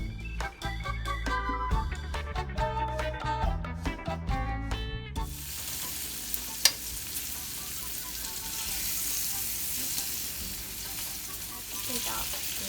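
Garlic shrimp for shrimp scampi sizzle and fry steadily in a pan after being turned, a constant close crackle that follows a few seconds of brief music at the start.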